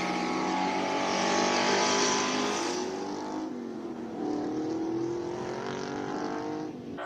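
A loud V8 classic race car roars past at a Cape Town speed event, harmonic tones climbing and falling as it accelerates and shifts, sustained throughout with a steady howl.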